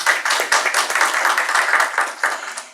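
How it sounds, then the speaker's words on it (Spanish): Audience applause at a philosophy conference panel on autism, a steady patter of clapping hands that carries on without a break and stays fairly close and loud throughout. "a quien brindamos también un fuerte aplauso"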